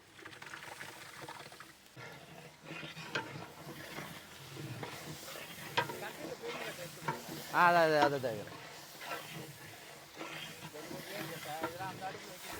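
Ground garlic and ginger paste fries with golden-browned onions for mutton rasam, giving a soft, continuous sizzle and hiss. Occasional stirring runs through it, and a voice talks quietly underneath.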